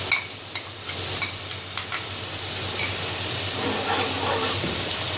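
Ginger garlic paste fries in a pan for kofta curry, with a steady hissing sizzle and a regular series of stirring taps in the first half before the hiss carries on alone.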